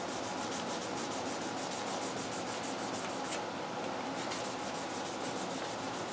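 Guitar frets being leveled with abrasive grit along the fretboard, a close, continuous rasping scrub in quick, even repeated strokes with no talk.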